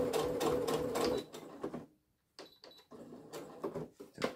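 A sewing machine stitches a thick fabric bookmark in rapid mechanical bursts, stopping briefly to near silence before the needle chatter resumes, close and moderately quiet.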